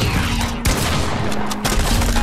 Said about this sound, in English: Got him with the worst SMG in the game